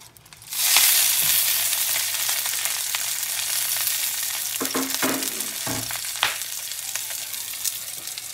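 Yellowfin tuna hits hot oil in a wok and erupts into a loud, dense sizzle that holds steady, punctuated by a few scraping stirs and clunks.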